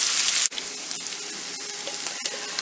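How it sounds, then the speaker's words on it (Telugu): Boiled potatoes fry in a pan with a loud, steady sizzle, broken by a few sharp scrapes and stirs, with no talking. "బాగా కలుపుకొని ఒక 2-3 మినిట్స్ ఫ్రై చేసుకోవాలి."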